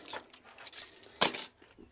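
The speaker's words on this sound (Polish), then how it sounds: "Klucze spadły." A bunch of keys drops at a house front door, giving a short metallic jingle and then a sharp clinking hit, close and brief, followed by quiet.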